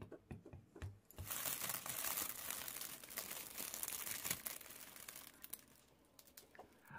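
Gift wrapping paper crinkles and tears as a present is unwrapped at home, a sustained burst of close, busy crackling that fades and then returns briefly near the end.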